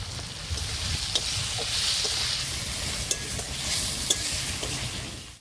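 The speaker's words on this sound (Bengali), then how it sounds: "নুন হলুদ দিয়ে আলুগুলো খুব সুন্দর করে ভাজা হয়ে গেছে" Cut potatoes fry in oil with cumin seeds, turmeric and salt, giving a steady close hiss of sizzling with a few sharp clicks of a spoon stirring through the pan.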